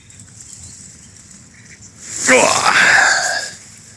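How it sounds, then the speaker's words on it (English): A seagull swoops near an angler on a riverbank while pike fishing, giving a loud rising whoosh and wavering cry that swells for about a second and then fades. "And Mr. Seagull wants a free food."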